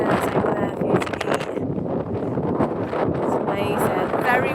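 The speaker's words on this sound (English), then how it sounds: "Very windy on the beach today, but it's sunny, but gosh, there's a very strong wind, as you can hear." Strong wind on a sunny beach buffets the microphone in constant gusty rumbles, with a person talking over it.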